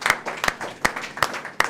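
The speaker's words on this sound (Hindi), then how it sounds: "त्यागी जी, जो गाजियाबाद से हमारे बीच आए हैं, आपकी जोरदार तालियों के बीच उन्हें सुनते हैं।" Audience applause for a poet at a Hindi poetry gathering, though only about five separate sharp claps sound at a slow steady pace, fairly faint with quiet gaps between.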